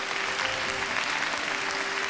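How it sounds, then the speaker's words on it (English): Audience applause at an awards ceremony on stage, a steady dense wash of clapping held at an even level for a couple of seconds, with no voices over it. "Let's give him a big round of applause."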